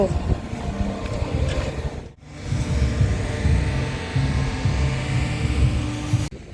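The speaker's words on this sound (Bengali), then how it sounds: "ঠান্ডা হাওয়া দিচ্ছে প্রচণ্ড" Strong, cold evening wind sweeps an empty beach at Mandarmani, roaring steadily and buffeting the microphone with low rumbling gusts. The roar drops out briefly before surging back.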